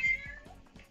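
A person imitates a cat, giving a short, high, close meow followed by a couple of softer mewing sounds, with no other talking.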